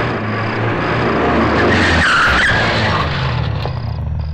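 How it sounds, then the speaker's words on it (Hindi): A car brakes hard and skids to a stop, a loud, sustained tire screech over engine roar that builds to a peak midway and then eases off, with no speech. "ड्राइवर गाड़ी रोको।"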